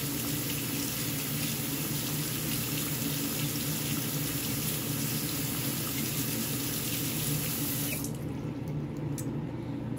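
A tap runs steadily as an Invisalign aligner tray is rinsed under the stream, with continuous close splashing water for about eight seconds before it shuts off.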